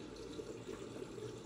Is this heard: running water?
yes